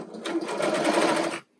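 A sewing machine topstitches a T-shirt in a single short, steady whirring run of rapid needle strokes that stops abruptly, close and moderately loud.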